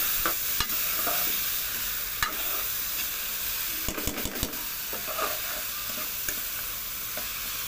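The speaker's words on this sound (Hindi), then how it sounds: "अब इसको अच्छे तरीके से हम मिक्स कर देंगे सारे टमाटर को, लहसुन अदरक को" Tomatoes, garlic and ginger are stirred into onions in a frying pan, giving a steady sizzle under scraping and clinking spoon strokes that come close and clear at an irregular pace.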